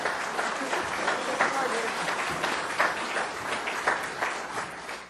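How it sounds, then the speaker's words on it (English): An audience at a farm awards ceremony for Master Farmers of the Year claps for the winners, steady moderate applause that fills the room for several seconds, with faint talk mixed under it. "Can we have another round of applause for both our winners, Mark and Alan?"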